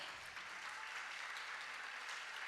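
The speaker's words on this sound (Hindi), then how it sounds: "ऐसी तालियां बजनी चाहिए" Audience applause at a school talents day event, a steady wash of many hands clapping, faint and distant, continuous throughout with no talk over it.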